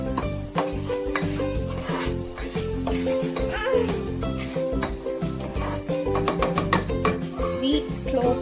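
Masala and puffed rice stirred in a hot pan, with repeated close scraping and clinking strokes over a continuous sizzle while people talk in the background.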